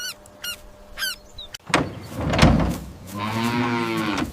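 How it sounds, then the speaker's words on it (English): A cow lows with a long, harmonic moo near the end, preceded by bird chirps and a few sharp knocks and thumps; moderately loud and close, without talk. "This is a cow."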